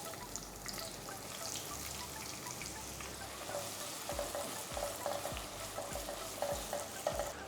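Sliced onions sizzle and fry in a pan for Tamil brinji rice, with a steady frying hiss and repeated scrapes and stirring knocks, close and alone without talk.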